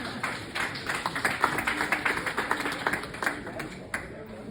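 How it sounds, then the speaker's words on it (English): Audience clapping in a round of applause at a members' boot camp event, steady dense claps with some sharper individual hits, moderately near and continuing for several seconds. "give her a round of applause"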